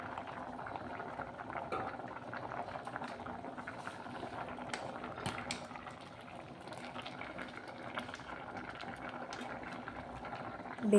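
Chunks of elephant foot yam bubble in an open pot for a chickpea curry, a steady, moderately quiet simmering burble that goes on without a break and with no voices.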